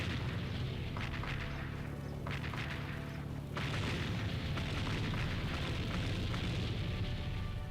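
A bomb detonating in a tank video game, heard as a loud, dense rumbling blast with several bursts, sustained and continuous without any speech over it.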